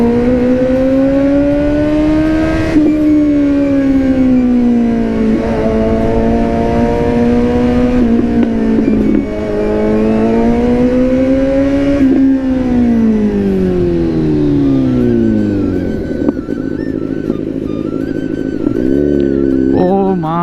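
Motorcycle named Echo on a ride, its engine droning steadily near and loud with pitch rising and falling through several gear changes, then slowing to a lower rumble near the end.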